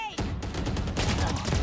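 Valorant match in which a grenade goes off beside a burst of rapid gunfire, loud and close, with an explosive thump at the start followed by dense repeated shots. A caster's voice can faintly be heard underneath.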